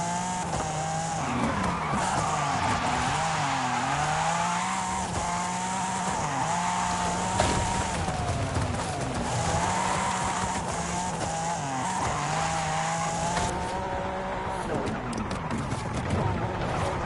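A Forza Horizon 5 car fitted with drift parts howls through a long slide, its engine note wavering and its tires squealing throughout. Someone talks over the game sound.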